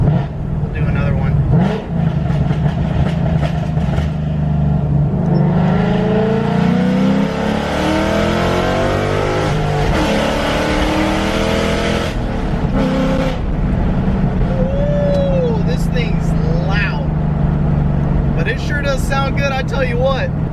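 A 2007 Mustang GT with a swapped Coyote 5.0 V8 revs hard and loud up close, its pitch climbing then falling as it decelerates into crackling pops, with voices talking over parts of it.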